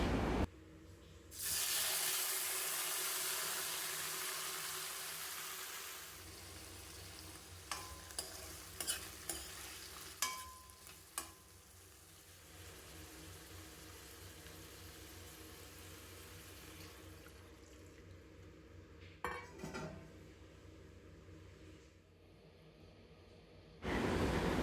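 Chorchori, a mixed vegetable dish, frying in a pan with a steady loud sizzle, broken by occasional scrapes and clinks of stirring and a brief run of tap water.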